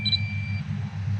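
A harvest-time drone gives a short high electronic beep lasting about half a second, heard close and clear over a low rumbling background.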